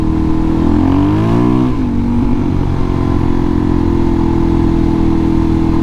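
Suzuki DRZ dirt bike engine running close by, loud and steady, with a brief rev that rises and falls before settling back into an even idle rumble, no voices.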